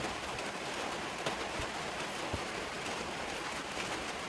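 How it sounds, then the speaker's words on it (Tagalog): Steady, dense rainfall pours down continuously, with a few louder drops striking a surface now and then. "Dagko kay lusok ang ulan"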